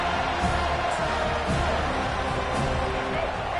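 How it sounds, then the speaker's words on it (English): A football stadium crowd roars in a continuous, loud wash of cheering as it welcomes the visiting team, with a commentator's voice faintly audible beneath it. "This crowd bringing an ear-splitting welcome to their visitors."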